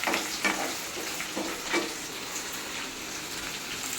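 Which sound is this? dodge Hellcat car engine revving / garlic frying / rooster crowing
garlic frying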